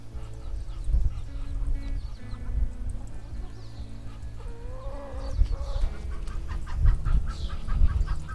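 Chickens clucking in a farmyard, with soft, repeated clucks and a few higher calls over a steady low background hum, fairly close and moderate in volume.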